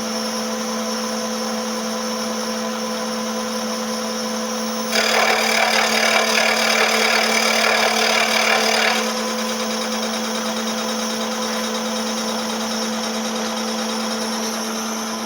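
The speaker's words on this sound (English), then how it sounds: "Now when I press return there, we'll see that end mill plunge down." A CNC drill press drives an end mill down into the workpiece, a steady broadband cutting roar rising abruptly over the machine's constant hum for about four seconds, then dropping back to the idle drone.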